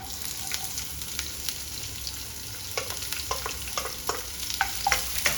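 Chopped onion, green chilli and cashews fry in a pan with a steady sizzle, broken by repeated clattering spatula strokes as they are stirred, loud and close, with no one speaking.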